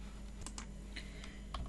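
Keys clacking on a computer keyboard while a username and group command are entered on an Ubuntu server, a short run of separate close taps over a steady low hum.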